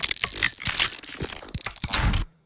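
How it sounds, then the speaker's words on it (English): Close, loud clatter of metal clicks and rattling scrapes in rapid irregular succession, cutting off suddenly at the end. "Those are just some metal clicks and rattles, which follow the movement."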